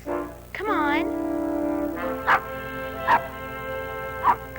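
Little dogs bark and yip: a high whining yelp rises and falls first, then three sharp, separate barks follow at roughly one-second intervals, close and loud.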